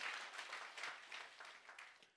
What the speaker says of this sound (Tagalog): Malakas na palakpak pa sa Diyos sa buhay.